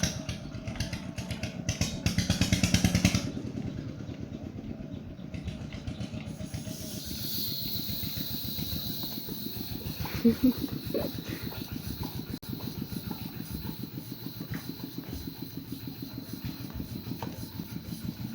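A motorcycle's tyre being inflated with an air pump before a 150 km trip, a steady engine-like hum and hiss running throughout, with a louder burst near the start and a few brief knocks midway.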